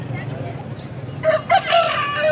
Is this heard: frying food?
no